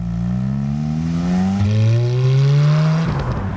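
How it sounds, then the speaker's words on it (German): Car engine roaring with its exhaust flaps open, revving up through rising tones with a gear change partway, loud and close, then dropping away at the end. "dass die Abgasklappen, wenn sie offen sind, halt eine infernalische Geräuschkulisse bilden"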